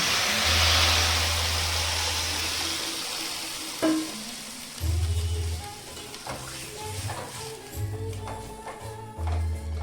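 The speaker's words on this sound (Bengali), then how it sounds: "এবার আমি উষ্ণ গরম জল এতে ঢেলে দিচ্ছি" Warm water poured onto frying vegetables for Bengali shukto sets off a loud, broad hiss of sizzling that fades into softer bubbling and stirring, with low rumbling in the background.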